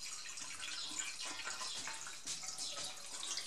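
Water poured quickly into a clogged drain pipe makes a steady, close hissing splash that continues without a break, with no voices.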